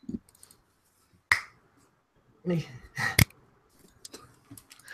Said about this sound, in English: You almost have to do the double snap to make it sound right.